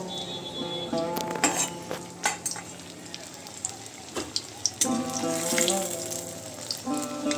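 Paneer cubes shallow-frying in hot oil until golden: a busy, bubbling sizzle with scattered sharp pops and spatters, fairly close.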